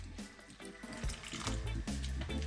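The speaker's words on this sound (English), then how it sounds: "I'm gonna add some water." Water runs from a tap into a bowl of fritter batter for Jamaican saltfish, vegetable or banana fritters, a steady close splashing pour with clinks and bumps of kitchen handling throughout.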